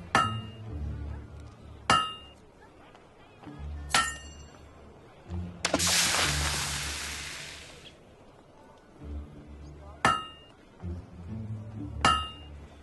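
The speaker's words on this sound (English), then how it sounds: "Nice bit of forging." Blade forging in the Fable 2 video game: a hammer strikes metal in ringing clangs at roughly two-second intervals, with a brief hissing burst midway, like quenching, and faint background between blows.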